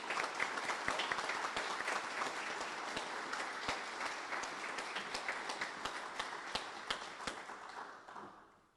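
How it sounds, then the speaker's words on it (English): An audience at a Marine Corps award dinner at Camp Lejeune breaks into sustained applause, a dense wash of clapping with a few sharper claps standing out, gradually thinning and fading near the end. "Please join me in a round of applause."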